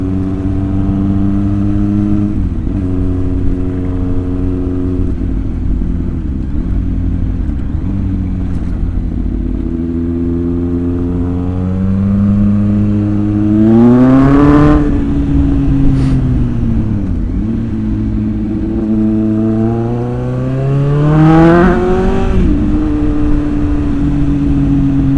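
A motorcycle engine drones steadily while riding, loud and close, its pitch climbing sharply twice as it revs through acceleration and then settling back to a steady cruise.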